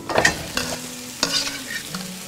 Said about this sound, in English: Sizzling garlic butter prawns.